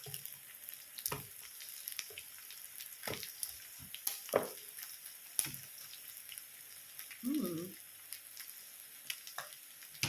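Barramundi fish sizzling in a frying pan, a crackling hiss with scattered pops and a few sharp clinks of a utensil against the pan.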